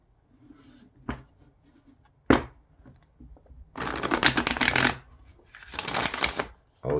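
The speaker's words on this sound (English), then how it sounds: "See how it riffle shuffles." Two bursts of riffle shuffling from a 1970s deck of slightly glossy, still-stiff playing cards, each a dense crackling flutter lasting about a second, preceded by a few light card taps and handling sounds, close and fairly loud.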